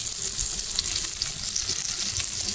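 Steady, dense sizzling of taro and potatoes frying in hot oil with turmeric and salt, continuous and close with no pauses or talking.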